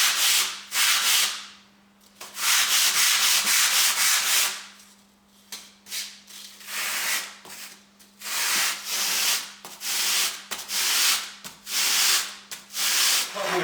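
Foam block being sanded by hand with 150 grit sandpaper, a close, loud rasping scrub in repeated strokes with short pauses between bursts and a faint steady hum underneath.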